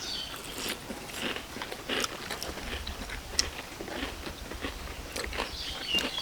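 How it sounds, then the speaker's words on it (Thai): Crispy fried batter is chewed close to the mouth, with steady crunchy bites and crackling chews repeating for several seconds, with no talking. "กรอบนี่แป้งทอดกรอบกรอบดีจ้า"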